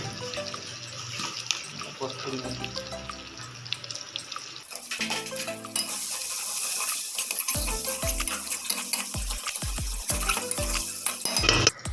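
Water pours into a hot pan of cooking chicken butter masala, splashing and hissing, while muffled voices and clatter run underneath.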